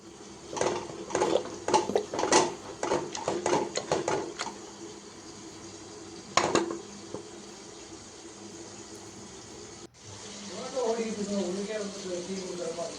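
Cooked spinach greens for a Tamil keerai kuzhambu are mashed in a pot with a series of quick, rhythmic scraping and thumping strokes, then a pause and a single stroke, followed by faint stirring and someone speaking.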